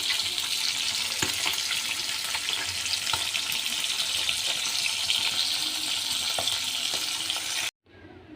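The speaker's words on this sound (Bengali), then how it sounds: "চুলায় কড়াই বসিয়ে তেল দিয়ে, তেল গরম হয়ে গেলে মাছ দিয়ে দিয়েছি ভাজার জন্য।" Vetki fish frying in hot oil in a wok gives a dense, continuous hiss with occasional pops and crackles, loud and close, before cutting off abruptly near the end.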